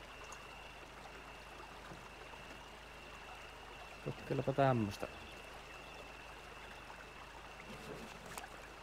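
River water flows steadily while a truck crosses in Spintires, a faint, constant rushing wash with a short spoken phrase midway.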